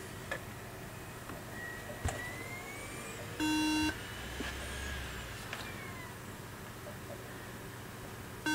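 A single steady electronic beep lasting about half a second sounds from a computer that won't boot, its fan spinning, amid a faint hum and a few soft ticks and clicks.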